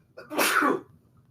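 One sharp, close sneeze from a man during a podcast conversation, a single burst standing alone in an otherwise quiet room.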